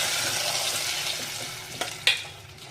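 Gongura curry with curry leaves is stirred in a pan, a soft steady sizzle with a couple of sharp utensil scrapes against the pan near the end, with no talking.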